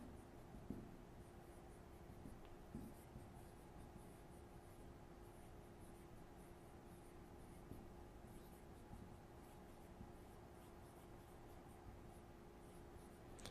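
Marker scratching and squeaking continuously across a classroom board, steady close strokes under a noisy room hum, with no voice heard.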